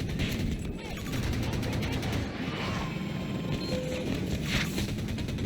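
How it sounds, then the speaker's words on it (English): Incoming rockets and gunfire rattle through a Battlefield 2042 match, a continuous dense wash of rapid shots and rumbling blasts with engine drone beneath and a voice talking over it. "Look at all of these rockets coming at us."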